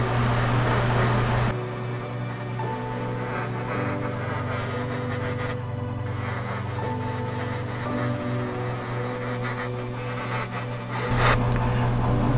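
An airbrush sprays base-coat paint onto a figure's hair: a steady, loud hissing airflow that runs almost the whole clip, with a compressor hum at the start and end and no talk.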